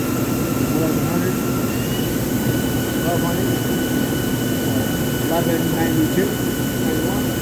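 The spindle of a 2001 Daewoo Puma 400B lathe runs up to speed with a dense, steady mechanical roar and a thin high whine. A voice calls out readings over it.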